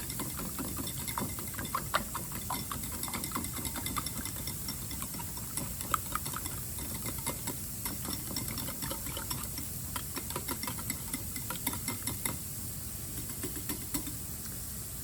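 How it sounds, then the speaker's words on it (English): Six eggs gently beaten together in a bowl, a quiet rapid ticking and clicking of a utensil against the bowl, steady and continuous throughout, no talking. "got our 6 eggs here. We're just gonna gently beat those together"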